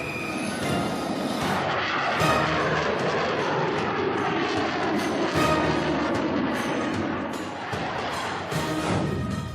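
A Dassault Rafale fighter jet flying, heard as a loud, continuous engine roar that stays dense and steady throughout, with no voices.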